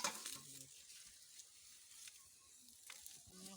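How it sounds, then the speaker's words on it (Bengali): Spices frying in hot oil at an outdoor village Christmas Day picnic give a soft, steady sizzle close by, with faint clinks and brief rustles over it. "মশলাটাকে ভাজ আগে।"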